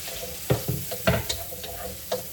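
Chopped onion frying in melted butter in a pan, a steady sizzle broken by several sharp stirring scrapes and clatters of a utensil, close and fairly loud with no talking.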